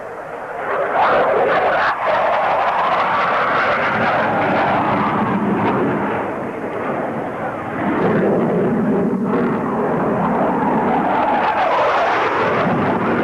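Blue Angels jets at a 1987 airshow at Carswell Air Force Base, four aircraft converging at maximum speed, a loud sustained roar that swells, dips briefly and surges again as they pass overhead.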